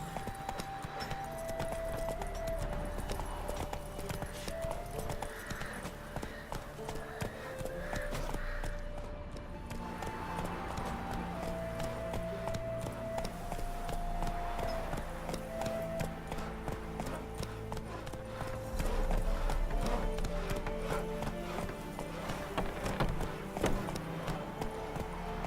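In a video game, the horse Roach trots with a steady, rhythmic clip-clop of hooves, moderately close, over soft background music throughout.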